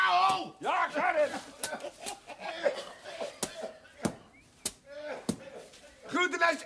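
A mat is beaten clean with a run of sharp, irregular thwacks, close and loud, while people talk over the blows.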